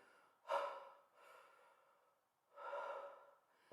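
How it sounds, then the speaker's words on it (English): Long, slow, deep breaths in a yoga breathing practice, two broad airy exhalations a couple of seconds apart with a softer breath between, close and alone without talk. "Much slower, much slower with the breath on the long,"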